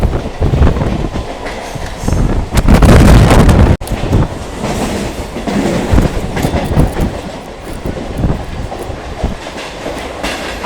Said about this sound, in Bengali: আর আমাদের ট্রেনটা কিন্তু ইতিমধ্যে কিন্তু স্পিড তুলে নিয়েছে